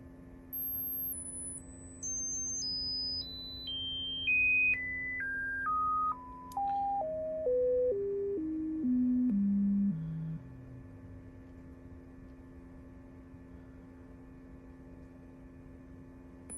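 A frequency sweep test tone played on an Otari MX5050 tape machine, a pure tone stepping steadily downward in pitch over about ten seconds above a constant low hum, then only the hum and hiss remain.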